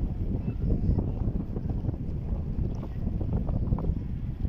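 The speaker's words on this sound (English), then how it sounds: "It's too windy and little bit sunny." Steady wind rushing and buffeting outdoors near the shore, a continuous low roar with gusty texture and no talking.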